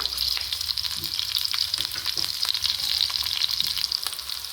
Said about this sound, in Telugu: జీడిపప్పులు ఇలా కొంచెం బ్రౌన్ కలర్ వచ్చే వరకు వేయించుకుందాం